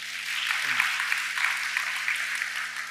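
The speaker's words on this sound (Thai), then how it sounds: "เราปรบมือให้พระเจ้าด้วยกันดีมั้ยครับ" A church congregation applauds in praise of God, a steady, moderately loud wash of clapping sustained throughout, with a low hum beneath and a brief falling tone near the start.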